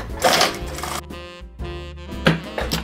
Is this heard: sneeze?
no